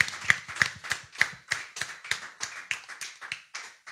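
A church congregation claps in steady unison to acclaim the Lord, a brisk regular beat of sharp claps roughly three per second, close and clear with no talk over it.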